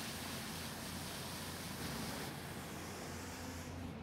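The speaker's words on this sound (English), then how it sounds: "Fill that up with water." Water pours steadily into a bucket holding pure Dawn dish detergent, a continuous close rushing hiss with a low rumble that holds evenly throughout.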